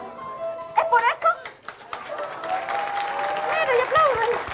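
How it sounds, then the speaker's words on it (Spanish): Audience applause from a studio crowd, a steady wash of clapping that swells and holds, with voices speaking over it throughout. "¡Mira, y aplauden!"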